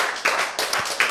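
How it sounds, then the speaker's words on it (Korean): Several bursts of audience clapping in a lecture hall, short spread-out claps rather than sustained applause, fairly close and moderately loud. "박수"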